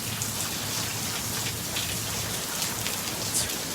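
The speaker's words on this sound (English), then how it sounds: "It's pouring rain." Heavy pouring rain, a dense, continuous hiss of drops hitting surfaces close by, steady and loud for the whole stretch with no voices.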